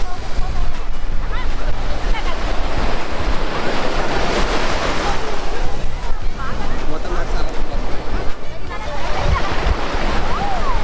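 Loud, continuous surf with waves breaking and rushing water at Gokarna Beach, heavy wind buffeting the microphone, and faint voices in the background.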